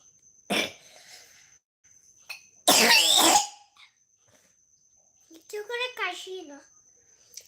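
A sick young girl coughs in a few harsh bursts, one long and loud, with a voice and short speech between them in a quiet room.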